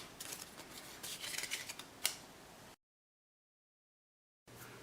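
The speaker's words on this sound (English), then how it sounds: "discard these remaining 3 cards" Playing cards from the board game Arcs being discarded on a tabletop, a soft close rustle and slide of card stock with a sharp snap near the end before a brief silence.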